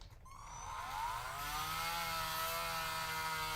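A power tool spins up and runs with a steady, rising whine while drilling around a stuck part during a repair, close and continuous after a brief ramp-up.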